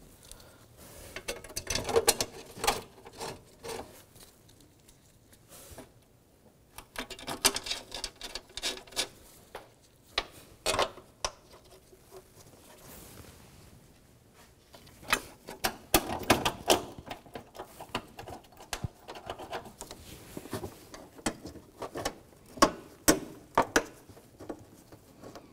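Bolts are fitted and tightened on a battery tray in a 1999-2006 Chevrolet Silverado 1500, heard as scattered close metallic clicks, rattles and ratcheting taps that come in irregular bursts.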